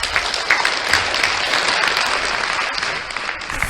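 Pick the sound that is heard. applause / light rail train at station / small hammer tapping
applause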